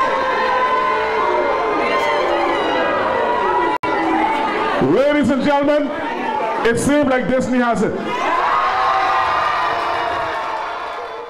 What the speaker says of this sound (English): Thunderous applause for the proposed Disney development as residents of South Eleuthera gathered last night at a town hall meeting